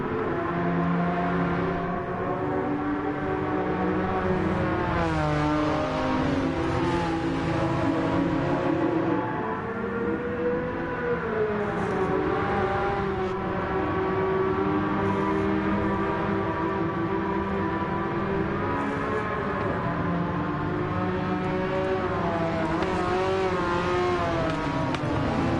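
Race car engines in Gran Turismo 7 roar steadily and loudly throughout, with rising and falling revs as gears shift, and no one speaking.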